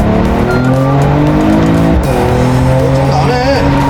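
A Mercedes-AMG E53 (W213 facelift, mild hybrid) growls steadily while driving, its exhaust drone rising and shifting in pitch with some tire noise, loud and continuous throughout.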